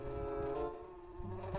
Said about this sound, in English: One bee.